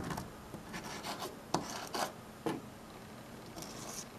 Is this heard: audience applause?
no